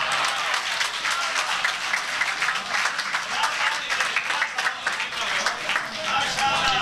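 An audience at a Punjabi poetry recitation breaks into sustained, dense applause, many hands clapping loudly and evenly for several seconds with a faint murmur of voices beneath.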